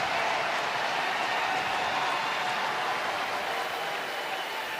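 A college football stadium crowd roars during South Dakota State at North Dakota after a big play by a senior tight end. The cheering is a continuous, even, fairly distant wash of noise with no distinct voices.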